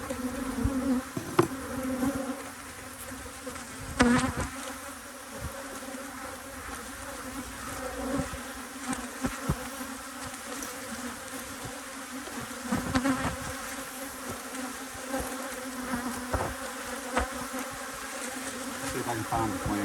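Honey bees buzz around an opened hive, a dense, continuous hum close by, with individual bees droning past louder for a moment and occasional clicks of hive boxes being handled.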